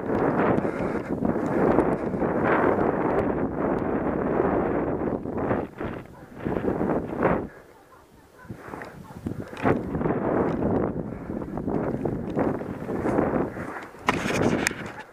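Strong wind sweeps across an open ploughed field during a hare hunt, a steady gusting roar buffeting the microphone, easing briefly in the middle before building again, with faint voices now and then.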